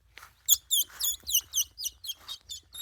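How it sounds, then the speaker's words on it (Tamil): A parrot gives a quick series of sharp, close chirping calls, about ten in a row against quiet surroundings. "கிளி சவுண்டு ஊத்துறா"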